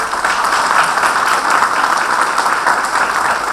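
Audience clapping during a talk, a steady continuous patter of many hands at moderate loudness, heard on its own without speech over it.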